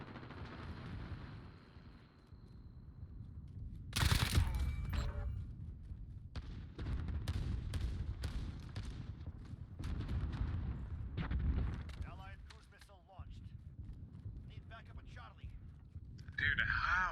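Rapid weapon fire in Call of Duty: Modern Warfare multiplayer crackles in repeated loud bursts and booms, separated by short lulls, with heavy rumble underneath.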